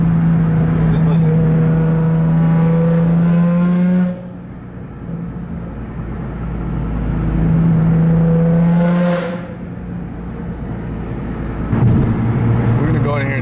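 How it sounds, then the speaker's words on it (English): A loud Nissan 350Z engine heard from inside the car while driving: a strong, steady drone rises and falls with the revs, easing off for a few seconds midway before building up again. "This car is way too loud, bro."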